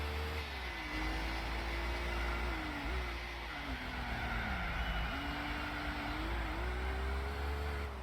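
A racing car engine in Gran Turismo 4 drones steadily, its pitch rising and dipping through gear changes and corners, loud and continuous with no voices.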